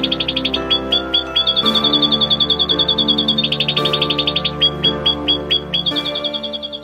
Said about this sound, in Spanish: Al oír aquello, el pájaro rompió a cantar.